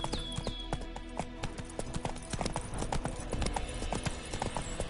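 Horse hooves clip-clop in a steady, brisk rhythm while riding in The Witcher 3, close and clear, with faint game ambience and occasional whinny-like tones.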